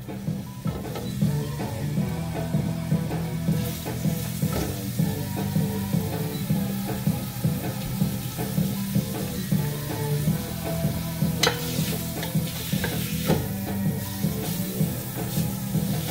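Continuous crackling sizzle of bacon frying in a pan, close up, with occasional scraping and stirring sounds and no talking.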